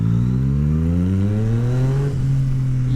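A Yamaha MT-09 motorcycle with a full Akrapovic exhaust revs hard and climbs steadily in pitch, then eases off briefly and pulls again. The engine tone is loud, close and continuous throughout.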